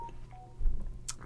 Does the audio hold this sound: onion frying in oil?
no